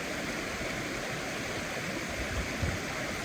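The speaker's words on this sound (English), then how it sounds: "now it's time to sit in silence and just listen to this river" A river flows steadily and close by, a continuous broadband rush of moving water with no voices and no pauses.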